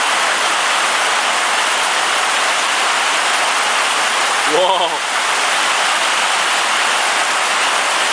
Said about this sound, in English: Yeah, raining. It's a good one.